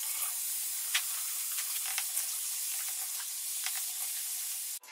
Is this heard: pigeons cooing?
no